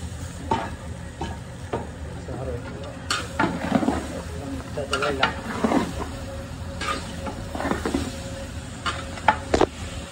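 Meat frying in a large pot for biryani and being stirred, a continuous sizzle with repeated scraping and clanking of a stirring utensil against the metal, close by.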